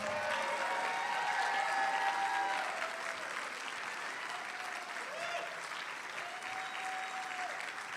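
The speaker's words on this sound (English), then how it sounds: "Let's give them a round of applause." Sustained audience applause fills a room at an election night event, steady and dense throughout with cheers and whoops rising above the clapping.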